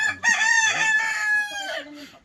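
A single rooster crows loudly and close by, one long drawn-out call.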